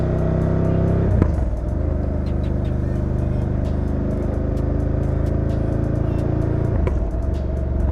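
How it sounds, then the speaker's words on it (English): A Ducati Scrambler 1100 Dark Pro motorcycle engine drones loud and close while riding, with revs dropping during gear changes around one and seven seconds, and a rough, steady exhaust note throughout. "The exhaust, as always, adds so much drama to changing the gears with all sorts of burbles and pops."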